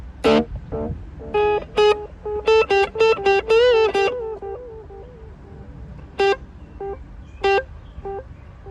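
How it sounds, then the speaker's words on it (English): Short electronic tones and horn-like blasts play through an RV sound system with an echo effect added, each note followed by fading repeats, some rapid runs and some isolated stabs. "what this also has is some echo"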